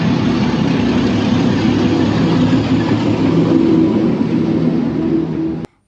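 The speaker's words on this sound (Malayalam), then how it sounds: "ട്രെയിൻ വരികയാണ്." A train rumbles along a track running through a narrow street lined with cafes in Vietnam, a loud, steady, heavy engine roar close by that holds for several seconds and then cuts off abruptly.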